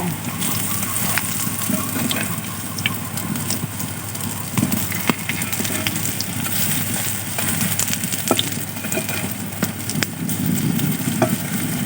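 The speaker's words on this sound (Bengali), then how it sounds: "দেখেন এটা ভাজতেছি এক এক করে সব ভাজা নিমো এখন" Lentil fritters and other snack pieces frying one by one in hot oil, a steady dense sizzle running throughout at close range with occasional clinks and stirring sounds.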